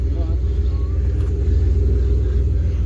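Car with an aftermarket TIGS exhaust idling nearby, a deep steady rumble with a slight pulsing burble, held constant throughout.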